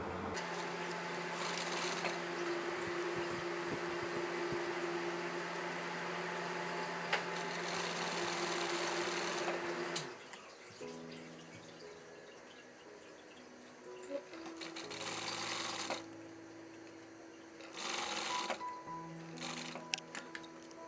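A sewing machine stitches the shoulder joint of a model blouse, whirring steadily for about ten seconds, then running in shorter bursts separated by pauses, close and moderately loud.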